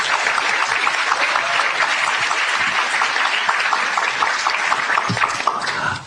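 Steady audience applause for five panelists at a discussion event, dense, even clapping from a seated crowd lasting about six seconds before tapering off at the end.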